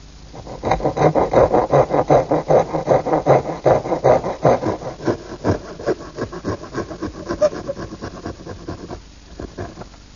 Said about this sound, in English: now I'm just going to cut them with my little dovetailing saw